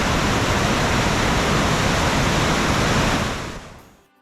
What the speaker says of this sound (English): the water actually originates from a groundwater spring within the cliffs themselves